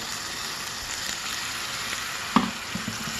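Fresh coriander leaves, stems still on, sizzle in oil in a pan for mint biryani, with a steady, even frying hiss and a couple of soft clinks near the end.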